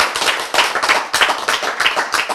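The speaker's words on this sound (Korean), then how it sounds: "박수 한번 쳐야지" A lecture audience at a health talk bursts into brief rounds of hand clapping, uneven and fairly close, swelling and dipping over a couple of seconds with no voices on top.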